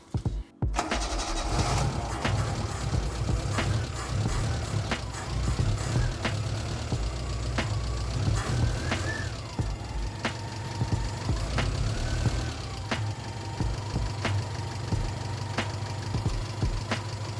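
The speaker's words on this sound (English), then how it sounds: "So now we'll fire her up, let her cycle through, get used to the new service" A car engine starts with a short crank after a cold air intake cone filter service, then settles into a steady close idle with a faint regular ticking over the hum.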